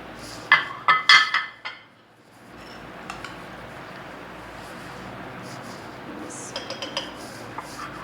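Metal utensils clinking against a dish while rajma macaroni chaat is served, several sharp ringing knocks close by, then quieter scraping and a few light taps later, with no talking.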